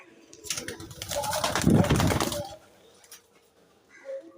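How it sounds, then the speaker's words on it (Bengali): A female pigeon coos up close, a soft throaty rolling coo that swells over about two seconds and then fades, with faint rustling and a few small sounds afterward. "মেয়ে পায়রা।"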